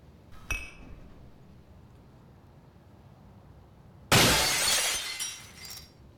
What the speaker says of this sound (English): Need to break the glass.